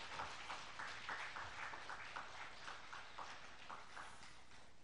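Audience at a Buddhist Dharma service claps together, a soft, fairly distant patter of many hands with a loose rhythmic pulse, steady and faint, with no talk over it.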